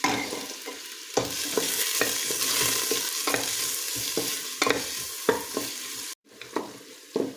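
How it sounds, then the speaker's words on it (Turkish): Onions sizzle and fry in hot oil in a pot while a spoon repeatedly scrapes and stirs, with sharp clacks at irregular intervals. "güzelce soğanlarımızı kavuruyoruz"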